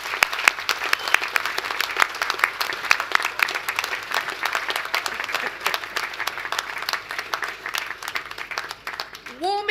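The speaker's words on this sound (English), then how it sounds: "acknowledge their support and their commitment to your education with a heartfelt round of applause" Family and friends at a university graduation ceremony give a heartfelt round of applause: a bright, crackling mass of clapping that holds steady and loud before thinning slightly near the end.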